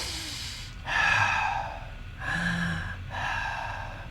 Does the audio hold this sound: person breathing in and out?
yes